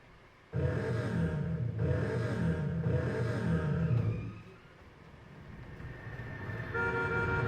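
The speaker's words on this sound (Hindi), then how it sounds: "तू हॉर्न बजाते हुए चल।" A loud car horn blares in long sustained honks, three or four in a row, over a low traffic rumble, then fades to quieter background noise.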